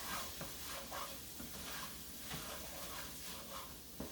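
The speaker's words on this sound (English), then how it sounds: "Give it a little stir real quick." A few quick stirring scrapes through casserole filling in a pan, soft and near over a faint hiss, lasting only a moment with no talking.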